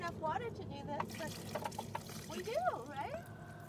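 A cup of water is poured over hair in a van shower, giving faint splashing and trickling under close conversation between people.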